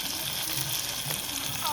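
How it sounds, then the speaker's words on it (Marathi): Karpali fish sizzle and fry steadily in oil on a tava, a dense continuous crackle close up with no talk over it. "त्यांनी करपाले मस्त तव्यामध्ये टाकलेले आहेत"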